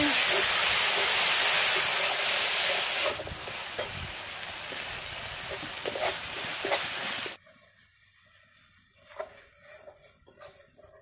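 Masala of chilli and cumin powder sizzling in a pan after a splash of water, a loud steady hiss that drops in strength partway, then soft stirring scrapes and quieter bubbling.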